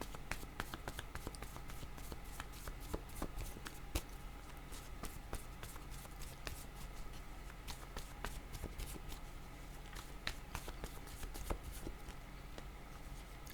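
Tarot cards being shuffled and drawn, a quiet run of quick papery riffles and soft snaps repeating steadily close by, with no talking.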